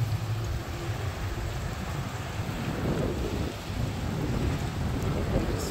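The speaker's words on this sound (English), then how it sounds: "It's starting to rain." Rain starting at the edge of a thunderstorm, pattering steadily with a deep rumble of thunder and gusting wind underneath, the low roar swelling slightly toward the end.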